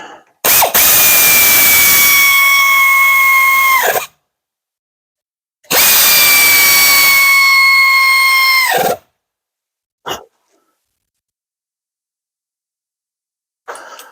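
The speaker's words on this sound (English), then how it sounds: "air ratchet." Air ratchet runs in two loud, sustained bursts of about three seconds each, with a whining pitch that drops as each burst ends, during a brake job on a 2006 Chevrolet Silverado in a quiet workspace, then brief faint knocks.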